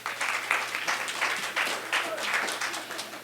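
Applause from the audience at a mayoral candidate forum, a full room of hands clapping steadily and fairly loud, with slight surges and no voices standing out.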